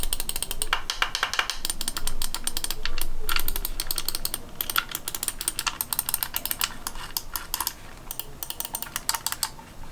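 Buttons and scroll wheels of a Tourbox NEO editing controller clicked and spun up close: rapid, dense ticking and tapping bursts, loud and continuous, with brief pauses and no talk.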